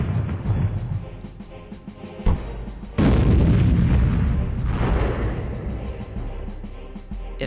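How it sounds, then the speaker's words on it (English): Explosions in the Storm Winds video game, heavy rumbling booms layered over each other, with a sharp blast that swells into a sustained loud roar before fading. "it's the excessive amounts of sound that's generated from all these explosions"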